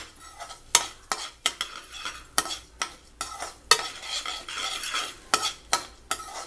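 Rice is stirred and dry-roasted in a wide-bottomed pan, with a scraping ladle making repeated sharp metallic strokes at an irregular rhythm over a soft background sizzle, close and alone.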